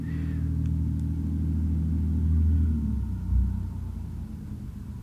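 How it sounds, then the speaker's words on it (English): A truck rolls past outside with a deep, rumbling engine drone that swells and then fades, heavy low-end noise filling the space without any voices. "Sorry about the truck"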